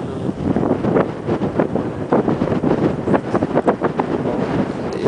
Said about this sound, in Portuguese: Pô, esse vento tá mais aqui, né?